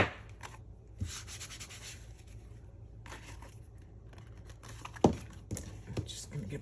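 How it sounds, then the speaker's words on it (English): Paper scallops glued along a box edge are rubbed down by hand, giving soft, faint scraping strokes in short bursts with a few light taps, fairly close and quiet. "We're just gonna give that a rub."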